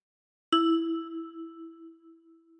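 A single note plucked by thumb on a 10-key kalimba, a bright metallic ping that rings out clearly alone and slowly fades over about two seconds.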